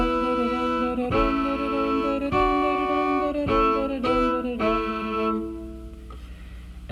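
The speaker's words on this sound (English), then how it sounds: "So with long bow backup, you don't really have a rhythm, except for when you change the chord. For instance, here's Boil 'em Cabbage Down." Fiddle playing Boil 'em Cabbage Down as long bow backup, sustained harmonic double-stop chords that shift only at chord changes, played alone with no steady rhythmic pulse.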